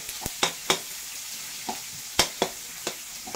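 Onion and ginger sautéing in a pan, a quiet sizzle broken by sharp scraping stir strokes at irregular intervals, no talking.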